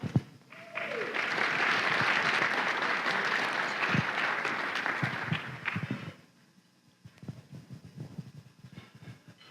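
Audience at a regional community gathering applauds with sustained, dense clapping for about six seconds, then it fades to sparse claps and room noise.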